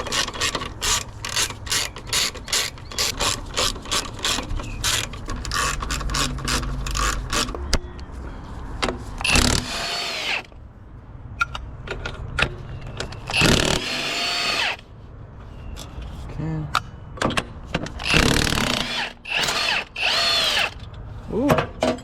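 A socket wrench ratchets in rapid clicking runs while working on the engine of a 1996 Honda Civic EK coupe, with dense bursts of clicks, pauses and clanks of tools close by.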